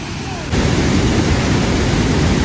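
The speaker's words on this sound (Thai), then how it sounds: "และนี่ก็คือน้ำตกตาดหัวคนครับ" Tad Hua Khon waterfall in southern Laos, a broad steady roar of rushing water that swells suddenly after a quiet start and then holds loud and constant.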